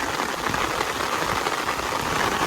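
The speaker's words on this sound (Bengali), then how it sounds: "এখন বৃষ্টি হচ্ছে এখানে" Steady rain pours over flooded paddy fields during monsoon rice planting, a dense, even hiss that fills the whole clip with no breaks.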